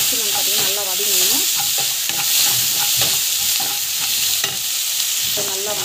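Tomato sautéing in a pan with constant loud sizzling, overlaid by repeated scraping and clinking of a spoon stirring against the pan, close and continuous.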